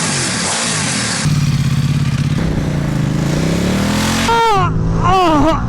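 Motorcycle exhaust revving, either a Ducati XDiavel cruiser or an Aprilia Tuono V4 1100 super naked bike, loud and close: a steady engine drone followed by sharp rising and falling throttle blips near the end, with no talk.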